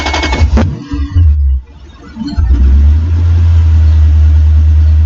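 Car engine cranking, catching and settling into a loud, steady idle close by after a brief stumble.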